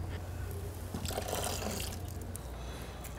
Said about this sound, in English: Rinse out the chain cleaner and refill with soapy water.